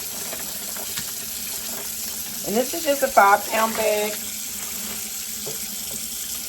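Cold tap water runs into a sink to rinse chitlins, a steady hissing stream with brief splashes, while a voice speaks over it for a moment.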